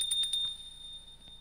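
In the video game Pocket Mirror, a bell rings faintly with a few quick high metallic chimes followed by a thin lingering tone, quiet and alone without talk.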